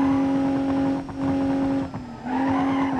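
A BMW M4 in the BeamNG.Drive driving game, its engine holding a steady, loud, sustained note that dips briefly twice before returning. Light tire noise accompanies the engine, and no one talks.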